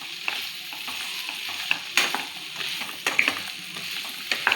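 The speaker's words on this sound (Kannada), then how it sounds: "ಚಿಕ್ಕದ ಉರಿಯಲ್ಲಿ ಬೆಂಡೆಕಾಯಿ ಹುರಿಬೇಕು." Okra frying and being stirred in oil over a low flame, a steady close sizzle broken by irregular scraping stirs and soft clinks, with no voices.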